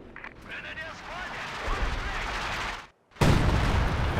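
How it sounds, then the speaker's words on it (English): An artillery barrage in the Company of Heroes 2 strategy game, with loud rumbling blasts and gunfire under a commentator's voice. A brief silent gap is followed by a sudden, heavier burst of explosions. "Now he's barraging right out the back though. So it's not going to hit too much, really."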